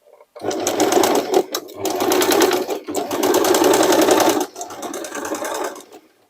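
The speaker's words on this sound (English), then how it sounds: "I will use my triple zigzag and my hobby sewing machine" A hobby sewing machine stitching leather with a triple zigzag runs in three steady bursts of rapid stitching, loud and close, with brief pauses between runs and no talking.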